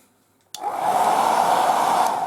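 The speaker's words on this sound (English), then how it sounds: "using the air dryer," An air dryer switches on abruptly after a short silence and keeps blowing with a steady, close, even whoosh, with no voices.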